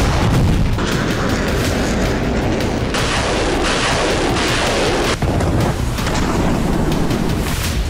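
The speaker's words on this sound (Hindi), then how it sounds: "रूसी सेना ने कीव के कई इलाकों में मिसाइल हमले किए।" Missile strikes and explosions in Kyiv, heard as a dense, continuous roar of heavy booms and rumbling blasts with sharper cracks layered on top, loud and sustained for several seconds.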